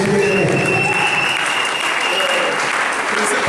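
A church congregation breaks into loud, dense applause acclaiming Jesus, sustained clapping filling the space from start to finish.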